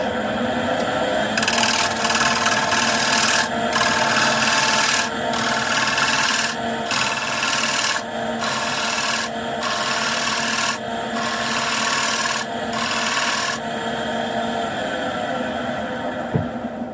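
A spindle gouge cuts a wooden bowl spinning on a lathe, giving a steady, loud rasping scrape in repeated passes of a second or two, with brief pauses between cuts and a constant motor hum underneath.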